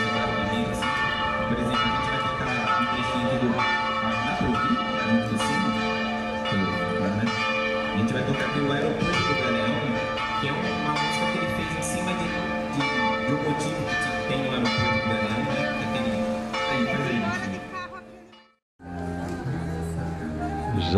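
Church bells at the main church in Tatuí ringing at noon, a loud continuous peal of overlapping bell tones lasting throughout, briefly dropping out near the end before resuming.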